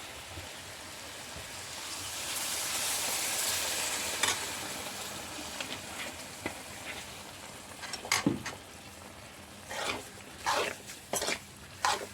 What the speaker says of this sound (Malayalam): നമുക്ക് വിനാഗിരി ഒഴിച്ച് കൊടുക്കാം